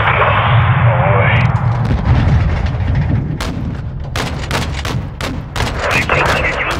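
Heavy gunfire in Call of Duty: Modern Warfare II rattles continuously, with loud sharp shots and booming blasts piling up, close and intense, under a constant dense roar.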